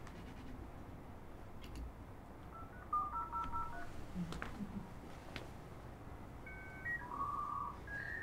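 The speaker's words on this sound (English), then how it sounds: "that is the familiar sound of a dial-up connection" Dial-up modem connecting to the internet, faint telephone dialing tones beeping in short steps over a low background hiss.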